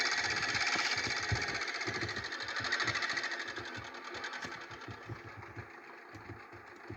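A tractor engine in Farming Simulator 17 chugging steadily with rhythmic mechanical knocking while ploughing a field, gradually winding down as it shuts off.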